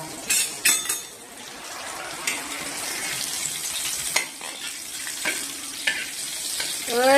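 Panch phoron spices and green chillies sizzle in hot oil, a continuous crackling fry broken by sharp spits and a few clinks of a utensil stirring the pan.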